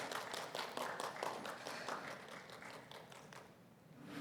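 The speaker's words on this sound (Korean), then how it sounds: "박수해 주시면 감사하겠습니다" At a church scholarship award ceremony, the audience claps in fairly regular, distinct beats for about three seconds, then the clapping fades out into near quiet.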